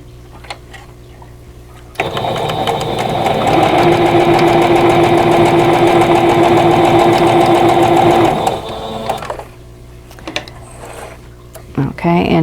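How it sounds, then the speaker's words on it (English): A sewing machine stitches a quilt block seam for a vintage pieced tulips block, starting abruptly after a quiet pause and running at a steady close whir for several seconds before stopping, with soft handling sounds on either side. "now I'm going to sew from the center top to the lower left-hand corner"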